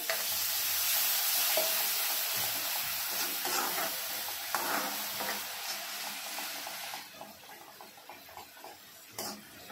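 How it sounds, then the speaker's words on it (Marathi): Water goes into a hot pan of sizzling oil with fresh coriander for rajma curry, the loud hiss and crackle slowly subsiding with occasional bubbling pops and a light stirring tick near the end. "थोडं पाणी टाकूया।"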